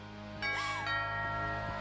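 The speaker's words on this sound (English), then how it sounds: "Doorbell? Of course, that's a classic" A two-tone doorbell chime rings once inside the horror exploration game What Remains of Edith Finch, a rising then falling electronic ding-dong heard clearly over a low, steady ambient hum.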